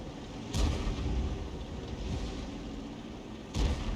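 Artillery rounds fired by a T92 HMC self-propelled gun in the tank game World of Tanks: two loud deep booms a few seconds apart over a steady rumbling battle background.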